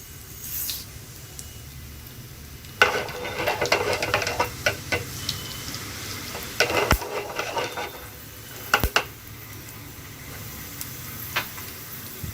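Fenugreek seeds fry in hot oil with mustard seeds in a pan for South Indian sambar. A steady sizzle runs throughout, close up, with sharper crackles and pops bursting out at intervals and no voices.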